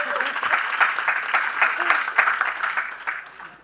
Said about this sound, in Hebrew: אפשר כפיים